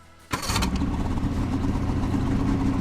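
An old Ski-Doo snowmobile, left sitting all summer, cranks briefly and catches, then settles into a loud, steady, close idle with a raspy two-stroke-like drone.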